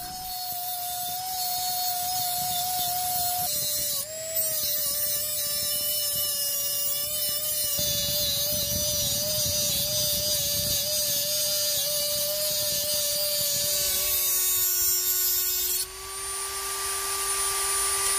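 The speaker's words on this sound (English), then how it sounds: "You may have noticed I cut off the hard drive shields." A power tool trims the metal hard drive shields from a PlayStation 4 in a steady, loud, high-pitched whine that holds for the whole stretch, shifting pitch as the cut progresses, with a brief dip and a sharper tonal change near the end.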